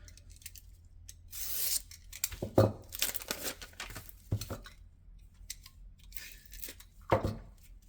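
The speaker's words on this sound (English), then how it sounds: "Pull off the fuse like usual." Fuse pulled off a Juggernaut 8-inch color canister shell firework, close papery tearing and scraping in short bursts with quiet handling rustles between them.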